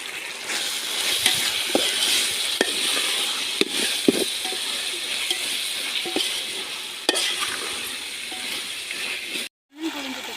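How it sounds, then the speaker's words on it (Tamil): A spoon stirs mushroom biryani with freshly added mint and coriander in a pan, giving repeated close scraping and stirring sounds over a steady sizzle of frying. "புதினா கொத்தமல்லி சேர்த்துக்கலாம் பாருங்கள் சேர்த்திட்டு நல்லா கிண்டி விட்டுக்கலாம்"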